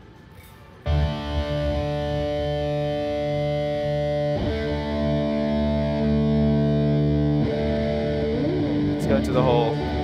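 Electric guitar roars through distorted amps, sustained chords ringing loud and thick with a break midway, then a scraping slide near the end; no talking.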